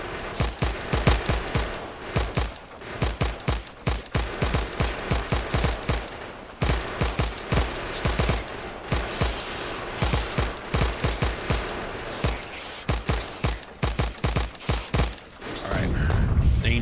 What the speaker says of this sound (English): this is actually where using the machine guns gives me an advantage